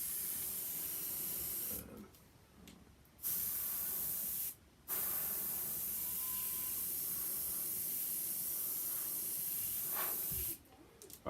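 An airbrush sprays paint in a long, steady close-up hiss, broken by a couple of short pauses where the air cuts off before spraying starts again.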